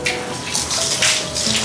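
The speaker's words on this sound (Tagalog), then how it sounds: "Tingnan nyo kung gaano siya ka-waterproof at dumudulas lang yung water." Water splashing and running off the waterproof surface of an inflatable camping tent, a steady, loud, close gushing wash that swells in short bursts, with no talking.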